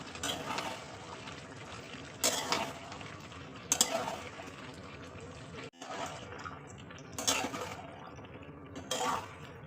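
Small fish (nera fish, 750 g) being stirred lightly in a pan with potatoes: a few scraping, clattering utensil strokes rise over a low steady background hiss.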